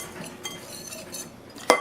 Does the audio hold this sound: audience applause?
no